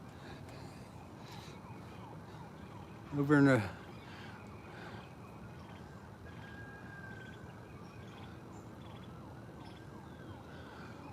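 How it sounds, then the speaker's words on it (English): Faint sirens wail about a mile away across a steady outdoor background, with a brief burst of nearby speech partway through. "A lot of sirens over there, a mile or so away."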